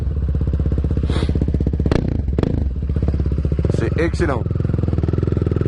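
A KTM Duke motorcycle engine idles with a steady, close, pulsing throb throughout, a voice speaking briefly over it.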